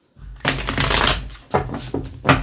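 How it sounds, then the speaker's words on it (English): Tarot cards shuffled in two quick riffling bursts, a crisp flutter of paper edges close by with a short pause between. "Let's give this a little bit of a shuffle."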